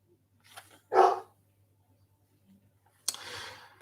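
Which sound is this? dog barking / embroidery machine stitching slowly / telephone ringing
dog barking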